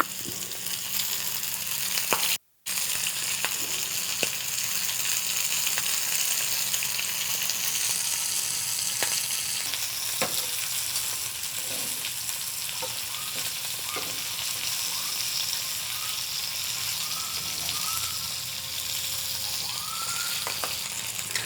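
Continuous loud sizzling of battered sea cucumber frying in a hot pan, a steady crackling hiss with occasional pops, no talking.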